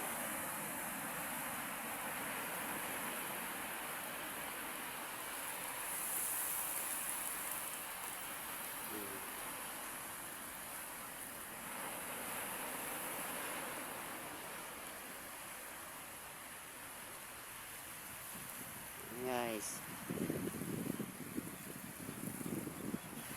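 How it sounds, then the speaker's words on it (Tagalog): Sea waves wash against an island shore in a continuous rushing hiss with gentle surges, a few brief louder splashes near the end. "Napakaganda pagmasdan ang mga alon."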